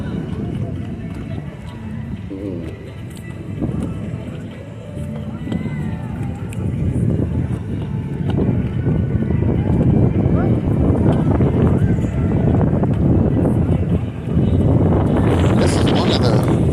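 Strong wind buffets the microphone on an open cruise ship deck in the Bahamas, a steady low roar and rumble that swells louder toward the end, with a voice talking over it.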